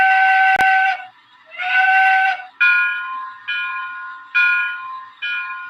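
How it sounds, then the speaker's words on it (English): Locomotive bell on a model train set ringing in repeated tolls, each sustained clear metallic ring ending abruptly, preceded by a sharp click, with no talking. "the bell is connected to a set of cables that go through the cab"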